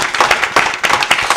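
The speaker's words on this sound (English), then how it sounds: "a big hand, a round of applause for our writers." A loud, close round of clapping for writers at a literary festival session, uneven bursts of hands with a choppy rhythm over about a second and a half.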